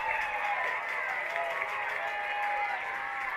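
Crowd noise at a high school football game between West Geauga and Edgewood, a steady, fairly loud wash of cheering and clapping from the stands that holds throughout without letting up.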